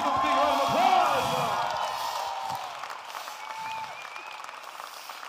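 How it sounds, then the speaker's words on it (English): Applause and crowd noise, loudest at the start and tapering off, with a voice speaking over the clapping. "Give a big round of applause."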